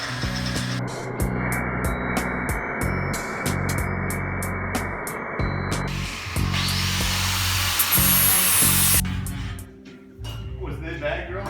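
A magnetic drill drills into metal with rhythmic high-pitched grinding bursts, a steady motor hum underneath and voices talking over it.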